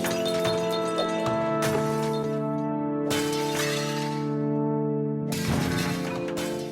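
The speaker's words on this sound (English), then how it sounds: "You merely fly through a glass world, smashing it with ball bearings." In the game Smash Hit, ball bearings smash through glass panes, giving three or four bright, crashing shatters spaced a couple of seconds apart over a constant droning, tonal musical backdrop.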